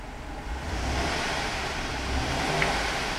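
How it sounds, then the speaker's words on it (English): A 2012 Chevrolet Avalanche Z71 engine rises from idle into a sustained rev, a steady broad rumble that swells and holds, close by and with no talk. "I'm going to rev the engine."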